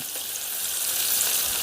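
Fish pieces frying in a pan for a Kerala-style fish curry, giving a loud, dense, continuous sizzle close up, with no other sounds.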